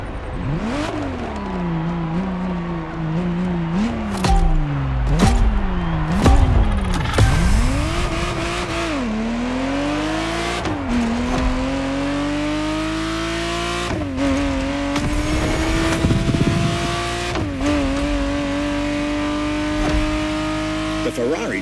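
A Ferrari Testarossa from the racing game The Crew Motorfest drives with a steady, rising engine drone that shifts pitch with gear changes and brief revs, mostly continuous and fairly loud, with speech layered over it.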